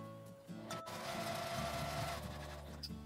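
A sewing machine runs a steady stitching seam through fabric for a cold-pack drawstring pouch, a quiet continuous mechanical whir heard on its own.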